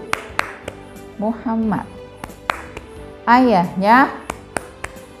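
Children clap their hands in a steady rhythm during a first-grade Islamic studies lesson, sharp claps punctuating a chanted song about the Prophet's family, with singing voices over them.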